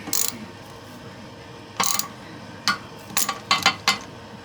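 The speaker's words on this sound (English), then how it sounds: "using your 1/2-inch socket, we're gonna go ahead and tighten it, and you're gonna see it's gonna break" A 1/2-inch socket ratchet tightening a toilet seat bolt gives short bursts of sharp metallic clicks, several quick pulls spaced apart and heard close up.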